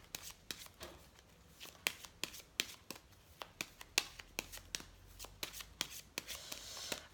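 A Lenormand card deck is shuffled up close, with quick, rhythmic riffling slaps and flicks repeating steadily for several seconds.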